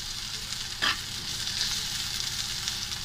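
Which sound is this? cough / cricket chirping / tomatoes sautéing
tomatoes sautéing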